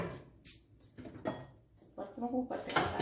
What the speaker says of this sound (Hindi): बर्तनों को करते हैं साइड पे